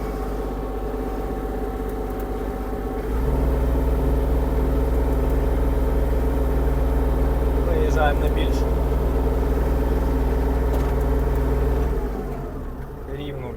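A Kubota GL-32 Japanese mini tractor with front loader idles, then its engine note rises and holds steady as it drives off with the clutch released, a close, continuous diesel drone before easing back near the end.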